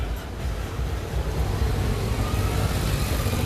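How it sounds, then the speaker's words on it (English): Street traffic rolls along Duval Street in Key West, a steady broadband rumble of passing cars and engines with a windy wash, continuous and moderately loud with no talking. "So a little traffic that you can see out here."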